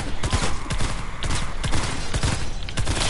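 Rapid gunshots in a video game, sharp repeated cracks firing in quick irregular bursts throughout, loud and close, with little talk.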